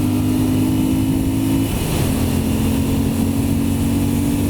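A Moto Guzzi V7 motorcycle engine roars at full throttle, a loud sustained drone that shifts pitch slightly midway as it pulls, heard close and steady with no talking.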